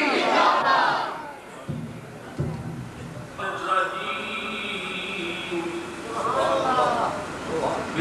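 A crowd at a religious gathering roaring slogans back in unison, loud collective shouts swelling in bursts between the lines of a leader calling out through a microphone.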